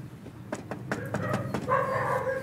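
Several dogs bark in quick, uneven bursts at moderate distance, followed by a higher whining or yelping tone near the end, with no talking over them.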